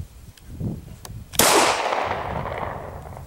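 A single loud gunshot from a Glock pistol fitted with rubber bands in place of its recoil spring, a sharp crack with a long reverberating tail, preceded by a few faint handling noises.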